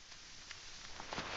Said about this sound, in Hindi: आ गई बारिश।